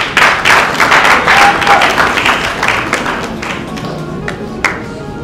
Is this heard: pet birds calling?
no